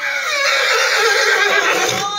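A horse in a lunging ring lets out a loud, close whinny that carries through the whole moment with a wavering, sustained neigh, no talk over it.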